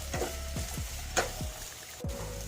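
Onions fry in a pan for gobi manchurian with a continuous sizzle, broken by a few quick stirring scrapes and a sharp clink, all fairly close.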